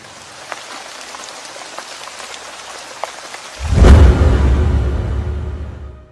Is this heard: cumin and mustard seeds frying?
no